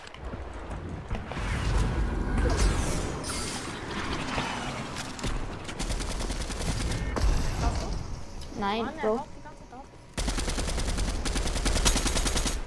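Rapid gunfire and machine-gun bursts in a shooter video game's Halloween update match, crackling in dense runs with mechanical clicks, while players talk over the action.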